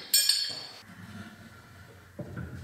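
Metal cap on a steampunk stool's pipe leg clinks sharply as it is handled and tightened, followed by brief scraping and grinding of metal on metal nearby.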